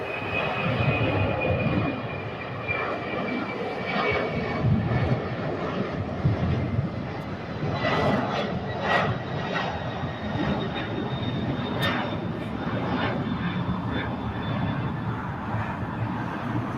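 An airplane departs LAX, heard from Imperial Hill as a long, steady jet roar that holds at a constant loudness from moderately far away for the whole stretch.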